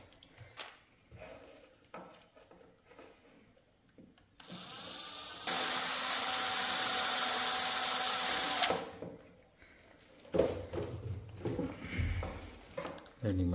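An angle grinder working on a Black+Decker screwdriver's battery housing, a loud, steady high-pitched grinding whine lasting a few seconds in the middle, with quieter handling noises and clatter before and after.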